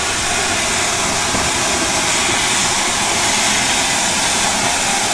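A former British Railways Class 5 steam locomotive at a station blows off excess steam pressure in a loud, steady roaring hiss that holds unbroken for several seconds, close by and with no voices.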